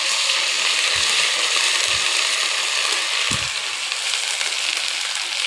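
Onion sizzles steadily in hot oil in a pan, with onion paste and cumin paste added for mustard hilsa, a constant close frying hiss broken by a few soft low knocks.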